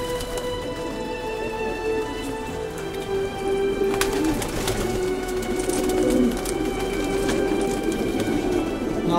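Pigeons of the Kulbacki breed in a loft, a busy bed of soft coos and bird calls running steadily throughout, with faint pecking and rustling close by, birds feeding on vegetables.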